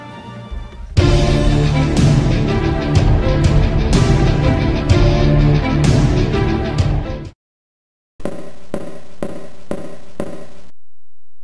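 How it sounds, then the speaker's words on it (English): SA-X footsteps from the game Metroid Fusion, heard as a dense run of loud, clattering percussive hits over a rumbling game soundtrack, then a short silence and a few sharp, evenly spaced thuds. "That is the sound of the SAX taking footsteps,"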